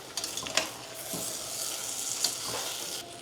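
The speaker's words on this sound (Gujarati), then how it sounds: "હવે આપણે ટમાટર પણ નાખી દઈએ ટમાટરને સાથે સાથે મિક્સ કરી દઈએ" Tomatoes being stirred into vegetables and masala frying in a pan, a continuous close sizzle with soft scraping strokes of stirring and no talk.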